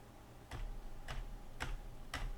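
Four quiet, evenly spaced computer mouse clicks sound close in an otherwise near-silent room.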